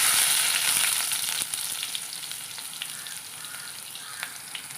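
Mustard seeds and chopped shallots frying in hot oil, a bright crackling sizzle that starts strong and settles slightly, with scattered pops and sharp spits, close and with no voices.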